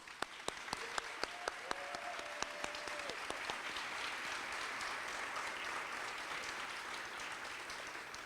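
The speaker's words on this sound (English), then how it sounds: "he deserves a round of applause." An audience at a middle school ribbon cutting applauds in a sustained wash of clapping. A few sharp, louder claps ring out near the start, and a brief tonal sound rises partway through.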